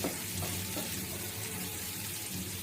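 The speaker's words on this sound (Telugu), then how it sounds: "ఇది కూడా లైట్ బ్రౌన్ కలర్ వచ్చే వరకు మంచిగా ఇలాగా ఫ్రై చేసుకుందాము" Onions frying in a pan until light brown for a high-protein urad dal curry, a steady soft sizzle with faint crackle running throughout, moderately close and fairly quiet, no voices.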